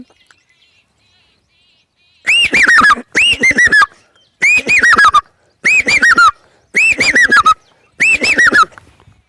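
A bird calls loudly and clearly in six separate bursts, each a quick run of bright whistled notes, with short silent gaps between them.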